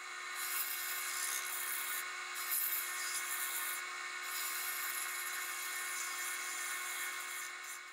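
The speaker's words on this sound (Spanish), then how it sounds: "Emparejo la superficie de la boca del cuenco." Wood lathe turning a bowl between centers, the tool truing the surface of the bowl's rim; a steady, continuous high-pitched scraping hiss with no talk.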